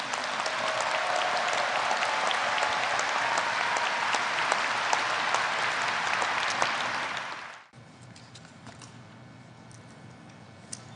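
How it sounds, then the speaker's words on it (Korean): An audience at a national prayer breakfast applauds warmly, with a dense, loud, steady clapping that lasts about seven seconds and then abruptly cuts off to quiet room tone. "우리 뜨거운 박수를 다시 한번 보내겠습니다."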